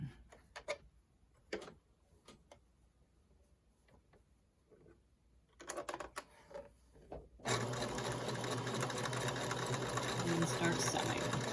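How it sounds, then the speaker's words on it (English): A domestic sewing machine chain pieces fabric, starting after scattered handling clicks and taps with a few brief pauses, then running in a steady, fast, close-up mechanical whir and clatter. "So I keep sewing until I get to the next one."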